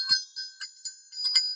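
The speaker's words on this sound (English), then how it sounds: "So I have this pair of brass candle holders. They are made in India, and they are bells." A pair of engraved brass candle holders from India, about 3.5 inches tall and made as bells, give several light, bright rings with clear sustained tones and short gaps between strikes.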